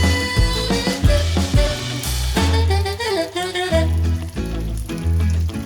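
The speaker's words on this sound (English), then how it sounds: "So when you fried your burger on each side around 2 minutes" A burger patty frying in oil in a pan gives a steady, crackling sizzle under louder background music throughout.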